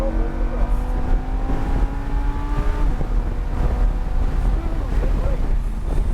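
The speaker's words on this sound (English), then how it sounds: "Accelerate. Full throttle." Lamborghini Huracan at full throttle on the NJMP Lightning track, engine note rising steadily through the revs before a gear change, heavy wind roar over the cabin while an instructor coaches.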